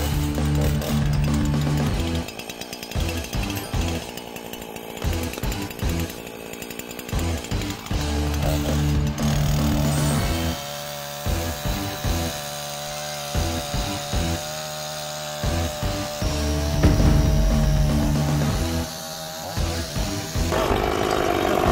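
Electric chainsaw boring through thick lake ice at minus 20 degrees, a loud continuous buzzing whine that rises and dips in pitch as the blade bites and frees over about twenty seconds, close to the listener and with no talk over it.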